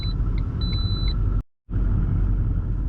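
Steady, loud engine rumble and road drone inside a moving car, with a few faint high electronic beeps early on and a brief dropout of near silence partway through before the drone resumes.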